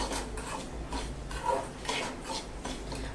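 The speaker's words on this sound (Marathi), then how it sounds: "हा रवा मस्तपैकी भाजून घेऊया असा छान खमंग याच्यामध्ये भाजून घ्यायचा तुपामध्ये" Semolina roasting in ghee in a pan, stirred with a utensil: soft scraping strokes and light metallic clinks recur in a loose rhythm, quiet and close, with no talk.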